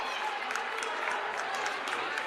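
High school boys basketball crowd reacts to an offensive foul call, a broad murmuring rumble of many voices with scattered claps, steady and moderately distant, with no clear speech.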